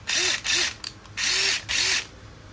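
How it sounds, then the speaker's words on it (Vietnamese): A Hikoki 36V cordless impact screwdriver runs in four short bursts, each a bright whirring spin that ramps up and cuts off, with brief pauses between. "một con bắn vít Hikuki 36V"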